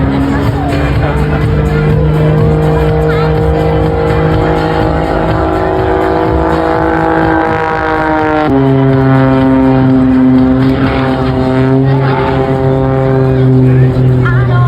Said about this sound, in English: liberal use of the rudder in that turn as he snap rolls the aircraft around